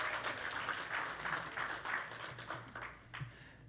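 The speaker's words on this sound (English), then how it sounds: "Give them all a round of applause." Audience applause at an annual members meeting, a crowd clapping steadily and fairly close, swelling and easing in waves before thinning out toward the end.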